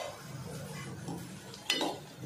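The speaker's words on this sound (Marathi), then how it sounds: "आणि परत कोथिंबीर मिक्स करून घेऊया" Okra with coriander is stirred in a pan with soft scraping and light sizzling, faint and close, with one sharp clink of a utensil against the pan near the end.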